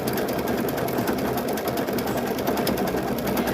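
An embroidery machine stitches a design onto rope with a steady, fast mechanical whir and needle chatter, loud and continuous throughout.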